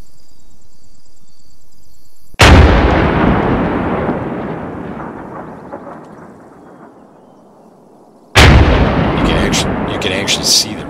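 Heavy artillery guns in a video game fire two booming rounds several seconds apart, each blast loud and close and trailing off in a long rumbling echo.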